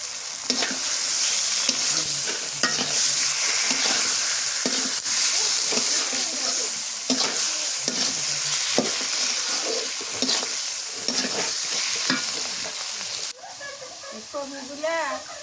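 Mula greens being fried and stirred in a pan for a dish with shingi fish and prawns, a steady loud sizzle with repeated scraping strokes throughout, and a voice talking over the cooking.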